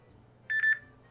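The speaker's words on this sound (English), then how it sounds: "Oh man, the phone is ringing." A telephone rings with a short electronic warble, three quick pulsing beeps in a brief burst, moderately loud and clear over a quiet room hum.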